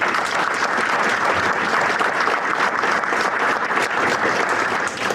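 An audience at an energy and environmental forum applauds, producing a loud, even wash of many hands clapping that holds steady for several seconds.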